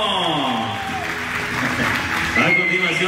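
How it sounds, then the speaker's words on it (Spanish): Guests at a quinceañera celebration clap together on a dance floor, a steady wash of applause blended with background music and a voice briefly heard over it. "Damas y caballeros, el aplauso."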